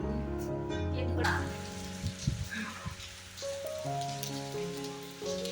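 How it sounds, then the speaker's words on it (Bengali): Steady rain pours down close by, a dense hiss of drops on a surface, with low background tones and a few knocks running underneath. "দেখুন বৃষ্টি পড়ছে যা"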